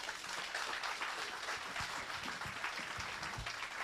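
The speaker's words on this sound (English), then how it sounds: "as you keep the hand clap going" Quiet applause from an audience at the grand opening of a manufacturing and engineering training centre, a soft continuous patter of many hands clapping with a few low voices underneath.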